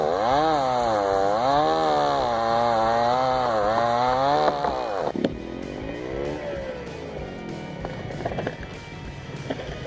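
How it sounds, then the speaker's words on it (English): A chainsaw cuts through big, thick pieces of wood, its engine revving and dipping in long wavering surges for several seconds, then dropping to a lower idle with a few knocks and scrapes. Close and loud, with no voices. "the chainsaw just goes through and I'm cutting big, huge pieces of wood"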